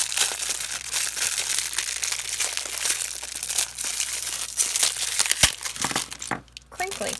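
Crinkly plastic packaging is handled and crumpled up close during an unboxing of soap-making supplies, with continuous loud rustling and crackling and a voice talking in the background.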